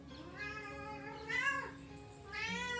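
A female kitten in heat gives a few drawn-out, wavering meows indoors, close and fairly soft, with brief pauses between calls.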